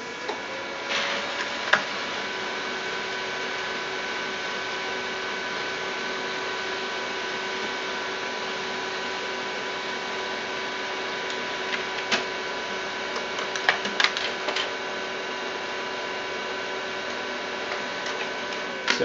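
A traffic sign printer starts up and feeds material, giving a steady mechanical whir with a constant tone, punctuated by sharp clicks and ticks as it prints strips.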